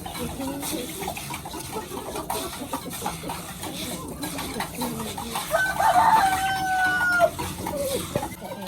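Chicks of the pure Banka breed, a home-bred line, cluck and chirp in a busy outdoor bird setting, with a brief clearer call standing out near the end over steady background noise.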